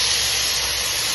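Potatoes dropped into a pan of frying onion and tomato give a steady, loud, close hiss of steam and sizzle that holds evenly throughout, with no talking.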